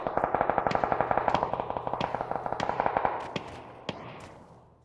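Rapid automatic gunfire in the battle royale game PUBG, a dense burst of sharp cracks that thins into a few scattered, echoing single shots at mid-distance before trailing off.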